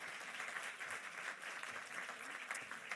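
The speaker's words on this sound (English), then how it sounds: "everybody can give you the applause you deserve" Sustained audience applause at a civil society forum panel, a dense, steady wash of many hands clapping throughout with no pauses.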